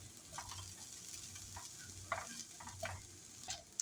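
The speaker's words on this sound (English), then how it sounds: "grill those onions a little bit" Chopped onions grilling in a pan over the lowest heat, with a soft, steady sizzle and scattered stirring clicks and scrapes, fairly quiet and close.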